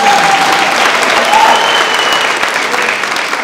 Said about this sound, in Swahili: Sikia makofi.